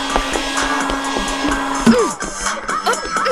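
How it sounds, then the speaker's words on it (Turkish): A household vacuum cleaner runs with a steady whirring motor drone throughout, loud and close, while voices exclaim over it near the end. "süpürge."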